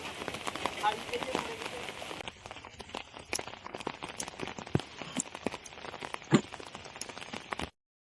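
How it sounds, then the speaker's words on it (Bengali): Steady rain falls on a flooded village of fields, ponds and canals after days of downpour: a dense, continuous patter of drops with scattered sharper splashes close by, stopping abruptly near the end. "2-3 দিন এক নাগাড়ে বৃষ্টি হওয়ায় মাঠ, পুকুর, খাল সবই প্রায় ডুবে গেছে।"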